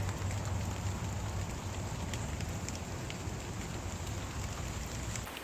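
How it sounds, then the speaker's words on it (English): Steady outdoor rain hisses evenly and constantly across the whole stretch as light showers begin falling in woodland during a fatwood-scouting outing, with no voices. "I think it's starting to rain."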